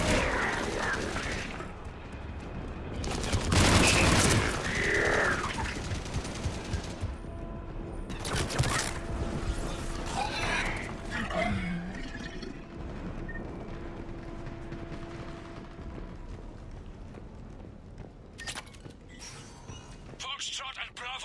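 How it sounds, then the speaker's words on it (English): Gunfire and weapon mechanisms in a battle from Mass Effect 3, sustained rattling fire and bursts with heavy blasts around the start and middle, continuing as a dense backdrop under intermittent speech. "Foxtrot and Bravo are taking heavy fire."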